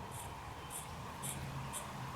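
Scissors snip through the T end of a new rubber windscreen wiper blade for a 1968 MGC, giving four short, crisp cuts about half a second apart over a low steady background hum.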